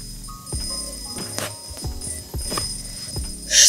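A cartoon alarm clock rings in the video game Toca Life World, a short burst of bright ringing near the end over soft game background music.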